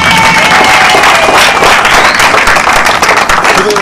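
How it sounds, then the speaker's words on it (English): A university audience gives a round of applause, dense clapping filling the room loudly and steadily from start to finish, with some cheering mixed in. "Give them a round of applause."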